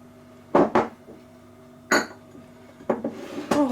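Courgette bread batter with breadcrumbs and crème fraîche is stirred in a bowl, giving a few separate clinks and scrapes of a utensil against the bowl, close and without talk.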